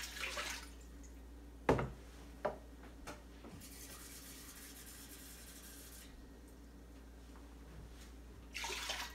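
Water pours into a big cooking pot for stewing apples, a steady rushing wash lasting several seconds between a few clunks and knocks, close and moderately loud with no talking.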